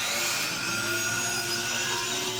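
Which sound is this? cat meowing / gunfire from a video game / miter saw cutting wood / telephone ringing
miter saw cutting wood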